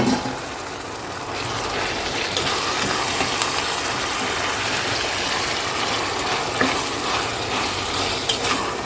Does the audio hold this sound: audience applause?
no